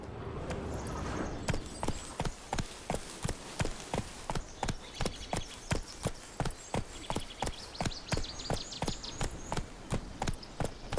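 The horse gallops in The Witcher 3 with a fast, even hoofbeat rhythm that starts after a brief lead-in. The hooves pound loud and close, with faint wind and ambient tones behind them.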